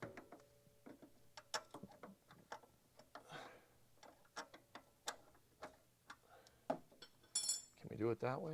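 A wrench clinks and taps against metal while a machine is adjusted, giving sharp, irregular metallic ticks at close range with brief rustling between them.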